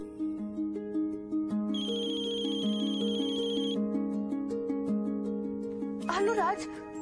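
A phone ringtone plays a repeating melodic tune, loud and close, with a brighter layered passage joining midway and a brief higher warble near the end.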